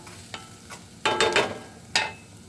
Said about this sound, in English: So you can hear that sizzle.